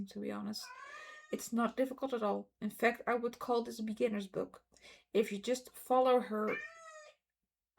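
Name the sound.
pet cat meowing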